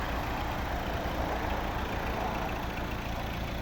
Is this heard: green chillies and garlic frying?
no